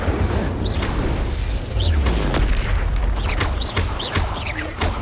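The Incendio fire spell cast during spell-slinging combat in Hogwarts Legacy on PS5: repeated deep booms and whooshing bursts roll over a continuous loud, rumbling battle bed.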